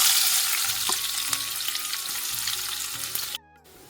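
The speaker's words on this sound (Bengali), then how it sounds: "তো এখন আমি পেঁয়াজটা দিয়ে দিচ্ছি।" Sliced onion fries in a pan with dried red chillies and whole cumin, giving a steady, loud sizzle with stirring scrapes that cuts off abruptly near the end.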